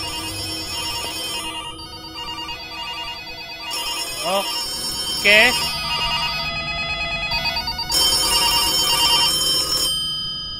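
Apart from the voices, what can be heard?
telephone ringing in the horror video game ARAYA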